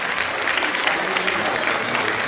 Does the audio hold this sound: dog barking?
no